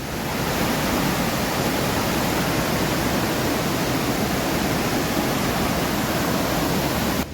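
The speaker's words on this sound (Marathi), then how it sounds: "ह्या ओढ्यात एवढंच वेगात पाणी असताना आणि सध्या आता पाऊस पडल्यामुळे भरपूर पाणी आहे" A fast-flowing forest stream in Sindhudurg, Konkan, swollen after rain, roars as a loud, continuous broadband rush of water from start to finish with no voices.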